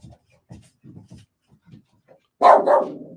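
A pet dog named Ray gives a loud, close bark, preceded by a run of soft low grumbles and huffs in a quiet indoor room.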